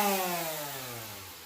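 A power sander working on an antique oak sideboard, a loud steady motor whine that slowly falls in pitch as it winds down over a second and a half, with no talking.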